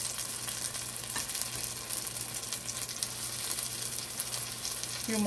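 Salt cod fish fritters fry in hot oil, a steady close sizzle with a faint constant hum underneath, no talking.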